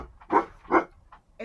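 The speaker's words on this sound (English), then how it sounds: "she's barking at my son" A dog gives two short, moderately close barks followed by softer, smaller yips, in a home with several dogs.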